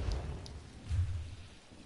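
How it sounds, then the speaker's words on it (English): Steady rain and rolling thunder form the ambience of a video game thunderstorm, a continuous low rumble with soft hiss on top, moderately loud with no talking. "I fucking love the sound of rain and thunders and shit"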